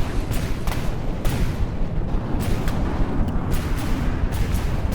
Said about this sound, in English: Oh, you've got some fairly big cannons